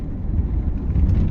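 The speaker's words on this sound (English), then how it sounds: "So the car pulled away very nicely there." Grey Ford Kuga 2.0 TDCi Titanium diesel SUV with Powershift automatic and all-wheel drive pulling away, a steady low engine and road rumble heard from inside the cabin without a break and with no voices.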